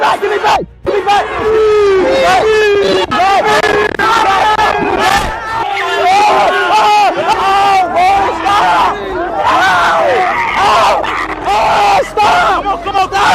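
A large, tightly packed crowd of fans around the streamer IShowSpeed, loud and close, with overlapping shouts, yells and screams rising and falling chaotically and no single voice standing out.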